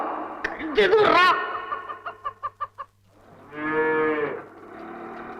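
A cow moos loudly and close by in a rural Kerala village comedy scene, one drawn-out low call near the end, after a burst of rhythmic clucking and cackling from chickens.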